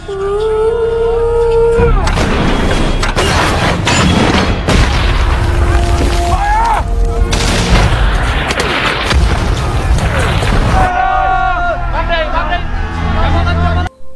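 Artillery barrage in a Vietnam war film: loud, repeated booming explosions and gunfire crash over shouting soldiers and battle noise, with several bursts in a row and quieter pauses between them.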